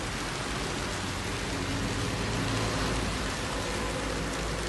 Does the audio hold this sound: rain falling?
yes